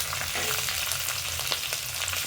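Six green chillies fry in hot oil for a spicy mutton pepper fry, giving a dense, steady, close sizzle with fine crackling and no voices.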